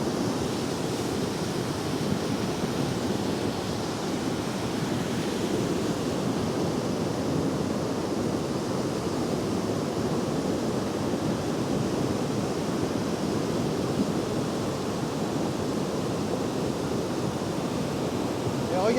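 A debris flow torrent at Saint-Julien-Montdenis rushes with a loud, steady roar of churning water and sediment. It is close and unbroken, with no pauses.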